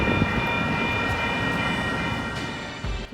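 An Expo Line light-rail train heading downtown toward the Staples Center station rumbles steadily and loudly with a continuous rolling roar and faint tonal hum, heard up close from on board.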